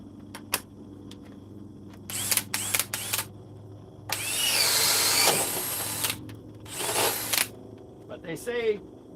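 A cordless power drill runs on a power stack battery in several short bursts and one longer whir of a few seconds, close by, with someone talking between runs.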